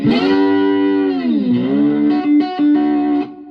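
A heavily overdriven electric guitar through a Roland Cube 10GX amp at full volume and overdrive rings out sustained, distorted chords, loud and close, with a couple of brief choppy breaks near the end.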